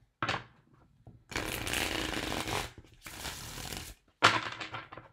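Tarot cards are shuffled in several bursts of crisp riffling and flapping, close up, separated by short pauses.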